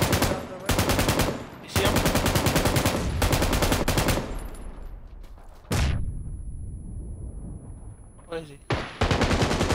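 Rapid automatic gunfire in a multiplayer shooter at a quarry, heard in long loud bursts with a few short gaps and a sharp single shot, while players talk over it.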